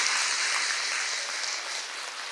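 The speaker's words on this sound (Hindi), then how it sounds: "हम विशेष तालियों की गड़गड़ाहट कर रहे हैं" Thunderous applause from a large crowd at a religious satsang gathering, dense and sustained clapping with no voices, fading slightly toward the end.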